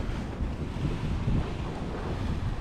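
Waves at a resort beach in Liloy, a rough washing surge mixed with heavy wind buffeting the microphone, close and fairly loud for a few seconds without speech.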